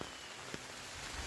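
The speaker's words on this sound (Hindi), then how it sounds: "बारिश ही बारिश है और कुछ नहीं।" Rain falls steadily in a Pahadi mountain village, a soft even hiss of drops with a couple of faint patters standing out, alone and fairly quiet.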